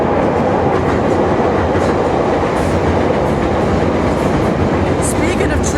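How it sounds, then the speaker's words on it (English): A train rumbles past close by with a loud, continuous roar and rattle of wheels and cars that lasts throughout and drowns out everything else. "Oh, here comes the train again."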